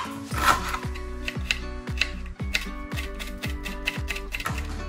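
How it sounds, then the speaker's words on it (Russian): A knife chops onion into cubes on a cutting board, a steady run of about ten crisp knocks that are evenly spaced and close, with no voices. "Режу кубиками."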